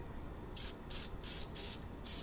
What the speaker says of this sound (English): I'm gonna take this glitter sparkle spray and just spray her down